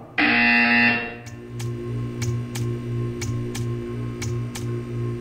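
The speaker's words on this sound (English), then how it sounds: "When you hear the buzzer, stare at the art." A loud electronic buzzer sounds in Portal 2, a harsh sustained tone lasting about a second, followed by a series of faint regular ticks over a low mechanical hum.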